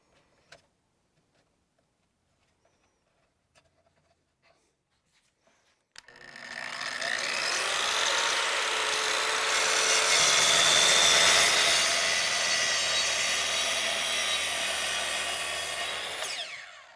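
A circular saw on a Kreg Adaptive Cutting System starts up after a few quiet seconds, then rips steadily through a board for about ten seconds, loud and close, before spinning down.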